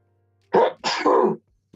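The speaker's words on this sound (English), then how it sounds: "Bless you. Gesundheit." A single close, loud human sneeze, a short intake followed by an explosive two-part burst, then quiet.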